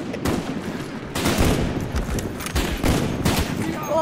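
Gunfire in a Call of Duty: Black Ops match on the Nuketown map, loud rapid bursts of overlapping shots repeating across the stretch, with players talking over it.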